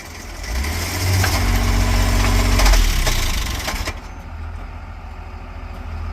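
A Mercedes engine cranks and catches, then settles into a rumbling idle after a brief rise in revs, loud and close with no talking.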